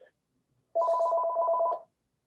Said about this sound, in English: Somebody want to answer their phone?